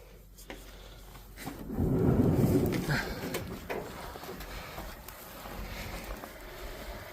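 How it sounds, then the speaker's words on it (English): Wind gusting outdoors during a southeast snowstorm on a farm, a broad rushing roar that swells loudly for a couple of seconds then settles into a steady blustery background with scattered knocks. "the wind is blowing. It's coming out of the southeast."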